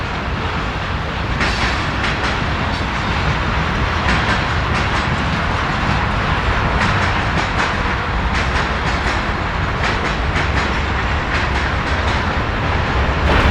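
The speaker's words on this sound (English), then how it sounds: "There's the last of the train." A long train rolls past close by, a loud, continuous rumble with steady clickety-clack of wheels over rail joints, near a historic township cemetery in Hershey, Pennsylvania.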